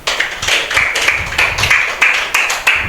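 A classroom of students claps in a steady, rhythmic unison pattern of sharp, close hand claps repeating about every third of a second.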